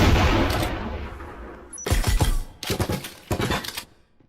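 Bursts of automatic gunfire in a competitive video game match, shots fired through a wall: a long initial burst fading off, then three sharp, loud volleys of rapid rounds in quick succession.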